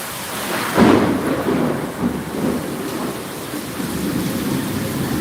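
Heavy rain pours steadily in a hill village, and a loud thunder rumble rolls in early before the downpour continues alone.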